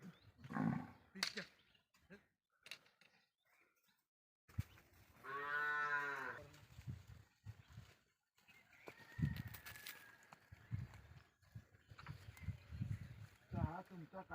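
A bull gives a single loud, drawn-out moo of about two seconds close by, set among stretches of people talking and other farm noises.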